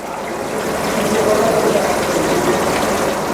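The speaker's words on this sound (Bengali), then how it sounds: "আর এদিকে চিকেনটাও ফ্রাই হচ্ছে" Chicken fries in a hot pan for restaurant-style chilli chicken, a steady dense sizzle with a constant loud hiss throughout and no pauses.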